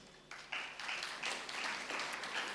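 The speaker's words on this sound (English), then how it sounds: "Join our hands for a loud applause as we call out the names." Audience applause at a graduation ceremony, a quiet, diffuse patter of many hands that swells in steps after the first half second and holds steady, heard from a distance.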